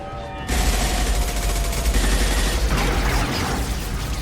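Sustained heavy gunfire in Mass Effect Legendary Edition, a dense continuous barrage of rapid shots that starts abruptly after a brief quiet moment and stays loud throughout, with no talking over it.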